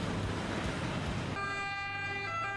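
Street traffic rumbles in Rome near Piazza del Popolo and Via del Corso, then an emergency vehicle siren cuts in halfway through with a sustained wailing tone over the passing vehicles, fairly close and clear.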